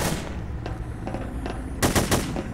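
Gunfire in the video game Hidden: Source, a few separate bursts of shots, the loudest cluster near the end, over a steady game background hum with no talking.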